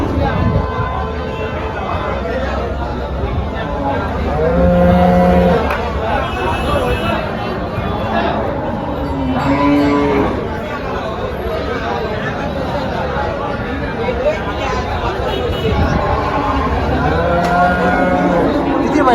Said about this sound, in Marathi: मित्रांनो गाय वगैरे बघू शकता